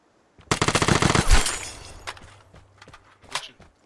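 Gunfire in a video game: a rapid automatic burst of about a dozen loud, close shots, followed by quieter scattered clatter and one more sharp sound near the end.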